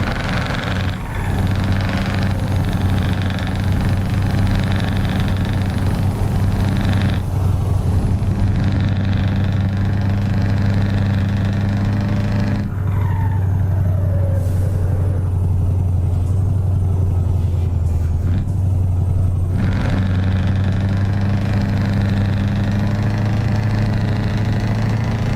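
A Scania truck engine in Euro Truck Simulator 2 rumbles steadily near idle, a loud, low mechanical drone with a few brief revs and shifts in pitch, no speech over it.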